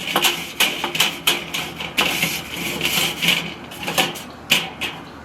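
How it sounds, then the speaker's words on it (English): A grill brush scrapes the grates of a grill heating up for a Philly cheesesteak cook, giving repeated rough scratching strokes at close range with a steady rhythm and no talking. "I'll just take my grill brush, scrape it down while it's getting hot."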